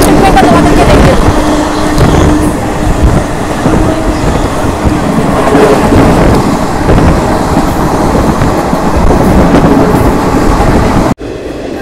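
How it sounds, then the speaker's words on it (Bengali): An Indian passenger train pulls into Ambala City station, its carriage rumbling and rattling loudly and steadily from start to finish, with a brief sharp dropout just before the end. "আর আমাদের ট্রেন এখন ঢুকছে আম্বালা সিটিতে।"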